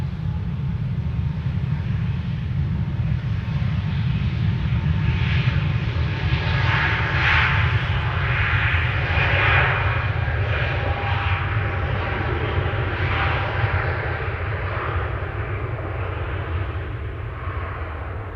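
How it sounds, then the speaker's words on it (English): Air Astana Airbus A321neo jet at Amsterdam Schiphol, a loud steady engine roar with a broad rumbling low end that swells slightly midway and holds throughout, with no voices over it. "Air Astana to Atirau. A321neo on its way."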